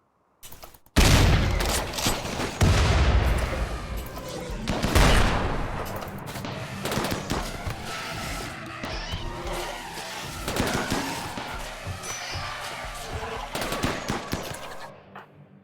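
Incendiary ammo firing in a video game, dense rapid bursts of automatic gunfire starting abruptly after a brief silence and continuing loud and close, mixed with engine and impact noise.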